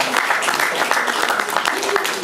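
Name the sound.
audience applause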